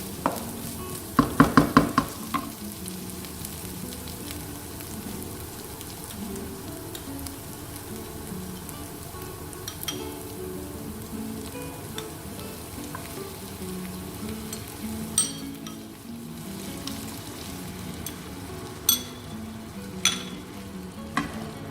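Massaman curry paste for a Thai chicken curry fries and is stirred in a pan, giving a steady close sizzle with scattered scrapes and clinks and a burst of sharp knocks near the start.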